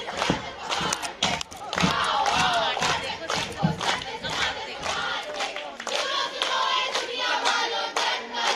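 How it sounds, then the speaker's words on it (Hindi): Audience applause at a Hindu conference in India: a dense, continuous wash of clapping hands from a large crowd, steady and loud throughout, with scattered cheers mixed in. "आपकी तालियां ही इनके लिए मीठा और प्रत्यक्ष फल है।"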